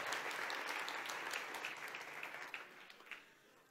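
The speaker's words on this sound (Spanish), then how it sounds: "Sí, se vale un aplauso al Señor por su palabra." Church congregation applauding together, a dense sustained wash of clapping that gradually thins and fades, with a few louder individual claps toward the end.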